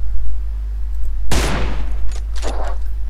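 Gunfire in the mobile battle royale game PUBG Mobile: a sudden loud burst of shots erupts partway through, followed by a few quicker, fainter shots, over a low steady game hum with no talking.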